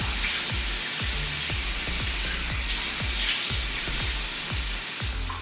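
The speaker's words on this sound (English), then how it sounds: "Let's wash the oil off first" Water splashes over a face to rinse off oil before cleansing, at a bathroom sink in a warehouse facility, with care for eyelash extensions. Continuous rushing water runs under a steady rhythm of soft splashes, close and without speech.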